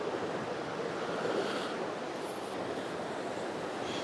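Ocean surf rolling in at Cherry Grove fishing pier, a steady broadband wash of waves with wind noise, continuous and fairly close, no voices.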